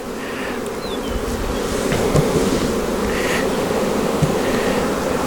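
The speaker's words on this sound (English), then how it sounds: "And then we'll shake those bees into the builder." Honeybees being shaken from a brood frame into a builder hive box during a colony split give a dense, loud, continuous buzzing swarm close by, with no voices.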